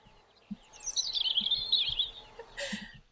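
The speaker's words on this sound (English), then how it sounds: "Let's have a listen to the robin." A robin sings a bright, high, warbling phrase that swoops and trills for a couple of seconds, with a few soft low thumps beneath and a brief hissy burst near the end; fairly faint and close.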